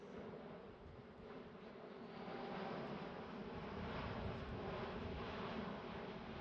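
Airbus A350 airliner making a slow, low pass at Farnborough International Airshow, a faint distant broadband jet roar that swells gradually and holds steady, with light wind noise and no talk.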